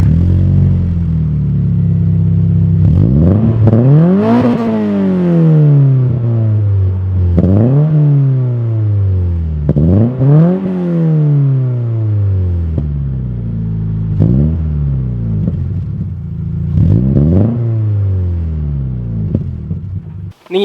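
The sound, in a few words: Subaru BRZ with aftermarket exhaust starting up and revving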